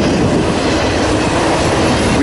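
Close and loud, a Norfolk Southern eastbound train rolls past on the Reading line at CP Laurel, Temple, PA, with a dense continuous roar of cars over the rails, clattering wheels and a hint of squeal.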